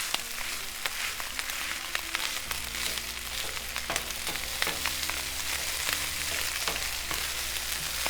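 Plant-based egg fried rice sizzles and crackles steadily on a hot griddle, a continuous bright frying hiss with scattered pops and scraping, alongside low steady hums, with no one talking.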